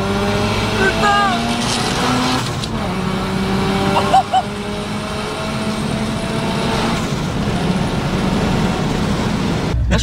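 A tuned 740 hp Mazda RX7 with a turbo engine accelerates hard, its loud engine note rising and shifting amid road noise, while someone talks excitedly over it.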